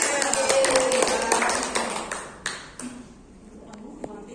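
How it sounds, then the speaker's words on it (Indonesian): A group of people clapping their hands together in a classroom or school gathering, a dense burst of applause that fades out after a few seconds, with scattered claps trailing off. "kita tepuk tangan dulu semuanya"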